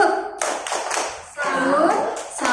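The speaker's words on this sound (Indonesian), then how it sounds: "Tepuk salut." A group at an education workshop performs a rhythmic 'tepuk salut' patterned clap, sharp bursts of hands in a set sequence with voices chanting along.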